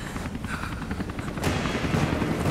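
Gunfire from Rise of the Tomb Raider comes as a rapid rattling burst of game shots over a rumbling background, with a sharper, louder blast partway through.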